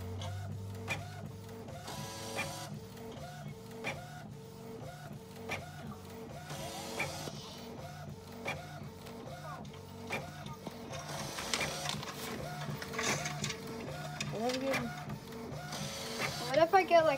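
A printer prints with a rapid, regular mechanical chatter of repeated carriage strokes and paper-feed clicks, fairly faint and close, running throughout while people talk over it.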